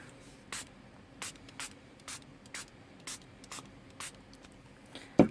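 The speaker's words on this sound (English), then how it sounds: "now I'm going to spray it with some of my homemade color washes" A spray bottle spritzes homemade color wash repeatedly in short, sharp hissing bursts, roughly ten evenly spaced puffs up close, ending with a small knock.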